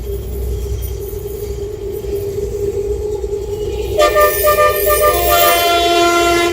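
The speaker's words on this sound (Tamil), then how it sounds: "இன்னொரு மெட்ரோ ட்ரெயின் போகுது பாருங்க." A Hyderabad metro train passing, its low steady rumble joined partway by a bright, tonal horn-like whine as it goes by, loud and close.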